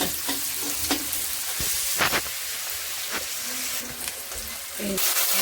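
Onion and Kashmiri chili fry in a pan for mutton curry, giving a busy crackling sizzle with scraping stirs and clanks of a utensil against the pan, close and continuous.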